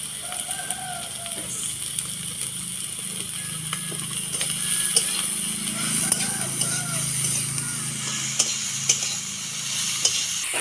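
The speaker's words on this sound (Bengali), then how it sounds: "নাড়াচাড়া দিয়ে আমি লবণ আর হলুদ দিয়ে দেবো, স্বাদ মতো লবণ।" Small potatoes and eggs sizzle gently in a pan as they are stirred, village-style with salt and turmeric. Soft scraping and light frying crackle run steadily at low volume, with faint birdsong in the background.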